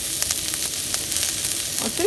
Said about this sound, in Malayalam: നമുക്കൊരു പാത്രം വെച്ചിട്ട് കുറച്ച് എണ്ണ ഒഴിച്ചതിനകത്തോട്ട് നമുക്ക് ഈ ഓണിയൻ ഇട്ട്